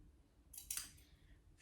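Scissors cutting fabric for a DIY costume make a single quiet, close snip with a short crisp rasp, then fall back to near silence.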